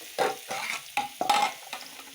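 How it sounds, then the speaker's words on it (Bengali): Potatoes frying in a pan, with a series of about six quick spatula stir strokes over a soft, close sizzle. "আজকে তো একটু আলু ভাজা করে দিচ্ছি"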